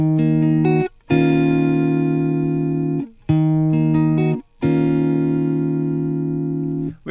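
Guitar plays the opening two measures of a song: sustained strummed chords in three phrases, each cut by a brief pause, loud and clear with no talking.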